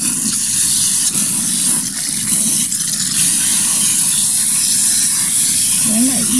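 Water pours onto newly planted tomatoes in a greenhouse, a steady close hiss and splash running unbroken from start to finish.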